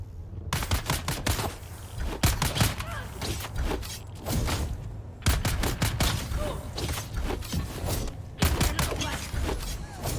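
Bursts of rapid automatic gunfire crackle through a Dune Awakening firefight, coming in several clustered volleys with brief lulls between them, loud and close alongside thumps and whooshes.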